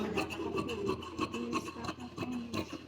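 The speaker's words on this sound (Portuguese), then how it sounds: "Vou seguir aqui cortando." Scissors cut fabric for a dress pattern in a sewing class, a steady rasping, rubbing drag with short snips repeating close by and no talk.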